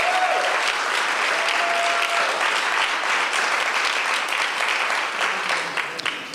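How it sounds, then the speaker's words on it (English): Applause for Reverend Linda's talk at a church service, a steady, full round of clapping from the congregation lasting several seconds and tapering slightly at the end. "Give her a nice round of applause."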